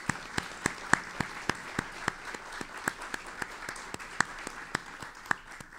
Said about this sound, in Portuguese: de Judith Schlier, mulher de Moacir Schlier, para quem eu peço uma salva de palmas.